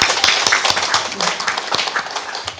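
A short burst of applause breaks out at a civic achievement-report ceremony, scattered hand claps rattling close and fairly loud for a couple of seconds, with a voice mixed faintly into the clapping.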